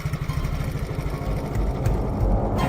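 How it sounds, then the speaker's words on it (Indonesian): A motorcycle engine runs with a steady low rumble that swells slightly toward the end, close and continuous, with no talk. "tiba-tiba aku mendengar suara mesin sepeda motor berbunyi."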